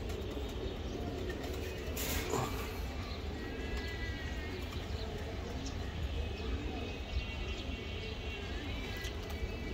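Pigeons of racing and high-flyer breeds coo softly in the background, faint and continuous amid low ambient noise, with occasional voices nearby.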